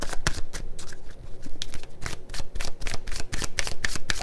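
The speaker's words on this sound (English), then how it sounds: "I'm going to just shuffle again." Tarot cards are shuffled by hand nearby in quick, crisp riffling bursts that repeat steadily, loud and alone with no talking.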